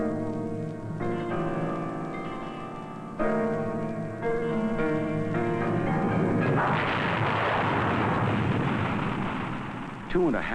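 Apollo rocket engines roar at liftoff in a deep, loud broadband rumble that swells midway and holds steadily to the end, following an opening stretch of tonal, music-like sound.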